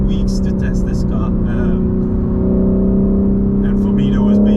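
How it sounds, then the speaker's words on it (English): A 2022 BMW G80 M3 Competition engine droning at high revs from inside the cabin on a wet, rainy run-in drive, a steady loud hum that rises slightly, with someone talking over it. "I'm kind of revving it as high as I can"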